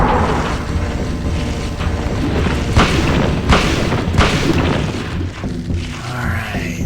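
A shotgun fires in Silent Hill 1, with several heavy, booming blasts landing about a second apart over a dense, rumbling game soundscape.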